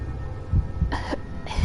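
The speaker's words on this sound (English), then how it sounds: "suddenly starts coughing violently" A few short, rough coughs from a character in the video game Death Mark sound in quick succession, close and moderately loud, with no talking.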